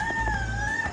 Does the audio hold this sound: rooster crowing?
yes